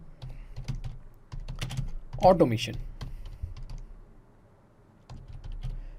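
Computer keyboard keys are typed in quick bursts while entering a workflow name, soft clicks running under a person speaking Hindi, with a pause before typing resumes.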